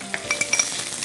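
Diced onions frying and being stirred in a pan, a short burst of bright sizzling with several quick utensil scrapes and taps, close and clear.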